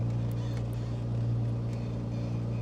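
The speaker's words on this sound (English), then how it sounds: "let me know if the background engine noise is too loud" Steady aircraft engine drone inside a simulated cockpit in Microsoft Flight Simulator 2024, a constant low hum with a strong tonal pitch, moderately quiet and uninterrupted, with no voices.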